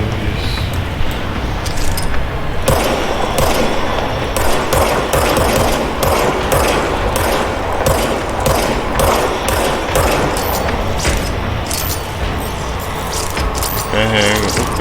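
Rapid bursts of service weapon gunfire in the video game Control, loud and repeated in quick volleys across most of the stretch, with mechanical clicks and game effects mixed in and a voice speaking at times.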